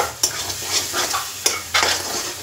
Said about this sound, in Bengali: এই বাটারটা আবার ভালো করে গলাতে হবে এর মধ্যে।